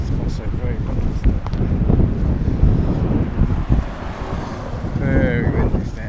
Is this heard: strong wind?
yes